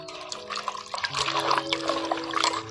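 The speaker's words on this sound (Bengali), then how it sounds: "এখন জল দিয়ে ভালো করে মটরশুঁটির খোসাগুলোকে ধুয়ে নিচ্ছি।" Water splashes and trickles over pea pods as they are rinsed by hand, a steady close wet sloshing with small drips throughout the short stretch.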